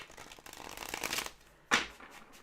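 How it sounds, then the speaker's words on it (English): A deck of tarot cards is shuffled close up, a fluttering burst of riffling cards followed by a brief pause and one sharper snap of the deck, with no talking. "I'm shuffling"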